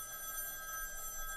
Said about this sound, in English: We're recording a podcast with a landline ringing.